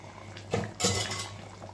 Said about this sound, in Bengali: দেখো মাছের ঝোলটা ফুটে উঠেছে